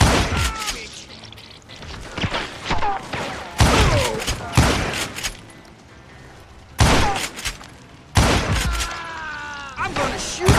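Gunfire in the Western shooter Call of Juarez: Gunslinger, played on Nintendo Switch: loud repeated bursts of shots with booming impacts across the scene, several heavy volleys punctuating shouted voices and game action.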